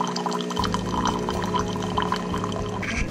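A Gaggia super-automatic espresso machine runs its rinse cycle. A pump hum kicks in after a brief pause and continues steadily, with trickling, splashing water close by.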